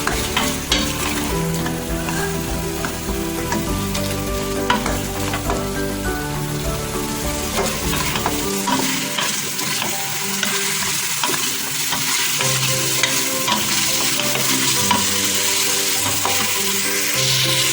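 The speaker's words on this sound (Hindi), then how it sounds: "लहसुन अदरक के साथ अच्छे से मिक्स करके भूनना है 4 से 5 मिनट।" Beef frying with garlic and ginger, sizzling loudly in a hot pan with constant frying crackle, punctuated by scraping stirs of a utensil, close up with no talking.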